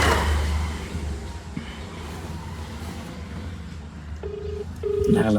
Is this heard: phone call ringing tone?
yes